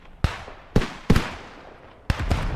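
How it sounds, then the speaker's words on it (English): Light mortars fire in the WWII video game Squad 44, giving four sharp booming launches at uneven intervals, each with a short decaying tail, fairly close and loud with no talk. "The light mortars activating."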